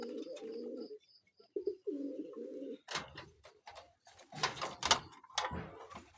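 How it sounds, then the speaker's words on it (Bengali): A pair of Sirazi pigeons coo in low, throaty rolling bursts, two close calls in the first few seconds, followed by flapping, shuffling and clattering sounds from the birds' enclosure. "আরেক জোড়া আছে কবুতর, সিরাজি কবুতর, এটা অরিজিনাল সিরাজি।"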